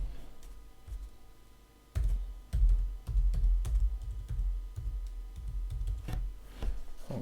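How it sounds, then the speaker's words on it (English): A name is typed on a computer keyboard, soft irregular key taps and clicks coming in an uneven run at close range over a low background hum. "Rieko typed her first and family name"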